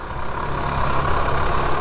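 A KTM Freeride motorcycle engine running with a low, steady diesel-like rumble, loud and close with no break, its small engine giving strong low-down torque.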